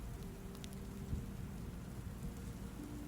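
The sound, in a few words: light soothing rain falling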